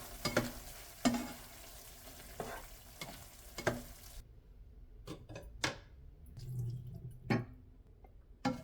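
A spoon stirring fresh herbs into one-pot spaghetti bolognese in a pan, giving soft scraping strokes and gentle wet sizzling at a close, quiet level, with repeated knocks against the pot at an irregular pace.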